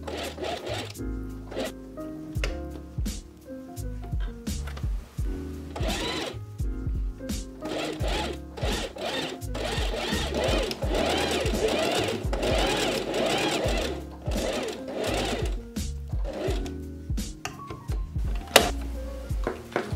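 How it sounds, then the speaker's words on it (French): A sewing machine stitches a fabric rectangle for a hair-clip bow, running steadily at close range with a rapid mechanical whirr that pauses and restarts in short runs. "Je vais maintenant fermer le rectangle en le cousant et en s'arrêtant au milieu."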